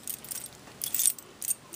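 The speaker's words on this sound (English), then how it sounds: "went through all the different keys, and I found only two that would fit this ancient lock" A ring of keys jangles as old Yale tryout keys are tested in an ancient Yale lock, with several bright metallic clinking bursts, close and quiet, with no talk.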